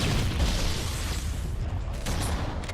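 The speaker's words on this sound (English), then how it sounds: "What a pretty chain explosion there." Chain of explosions after a thrown frag grenade in the Halo video game, a loud, rumbling burst of blasts that blend into a sustained roar, with a sharper crack near the end.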